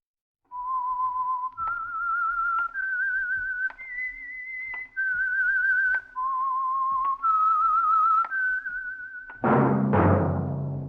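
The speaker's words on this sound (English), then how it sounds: "That whistle is your signal for the Signal Oil program" A clear melodic whistled signal tune from a 1948 radio program, bright sustained notes stepping up and down, ending in a sudden loud burst of orchestral music.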